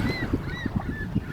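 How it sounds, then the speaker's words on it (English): Geese honking on the Lake Michigan shore, a short run of nasal calls at moderate distance over soft wind and beach ambience. "Oh, do you hear the birdies?"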